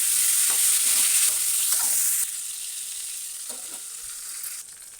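Stuffed brinjals frying in oil in a covered pan, a steady bright sizzle with soft stirring scrapes, loud at first and then settling a little quieter as it continues, no voices.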